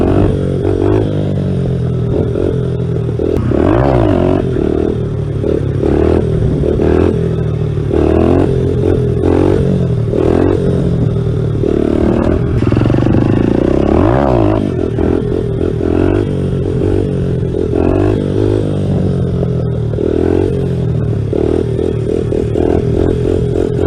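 A learner motorcycle rides in third gear behind a Twingo in traffic, its engine droning steadily up close with slight rises and falls in revs and some mechanical clatter throughout.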